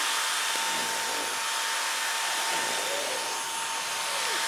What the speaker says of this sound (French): ce genre d'aspirateur, c'est vraiment un indispensable, je trouve